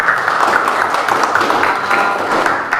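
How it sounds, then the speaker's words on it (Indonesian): A classroom group claps for a student group after their presentation, a continuous, fairly loud wash of many hands clapping with no breaks. "Kita berikan tepuk tangan untuk kelompok satu"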